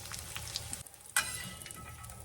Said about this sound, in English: get my onions cooking, and get them done first thing